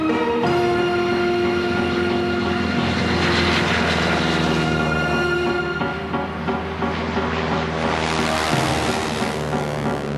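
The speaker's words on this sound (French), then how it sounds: "Ces avions en piston, c'est quand même quelque chose d'émouvant" Vintage piston-engine propeller airplanes drone steadily with a loud, continuous engine roar at an air show, the pitch shifting slightly as they pass, with no voices.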